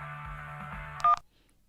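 A phone call effect in a Korean audiobook: a steady electronic dial tone, then a quick burst of keypad tones before it cuts to near silence.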